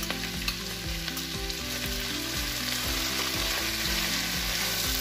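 Chicken chow mein noodles fry with sauce in a hot pan, a loud continuous sizzle under repeated rhythmic scraping and stirring strokes, close up and without talking.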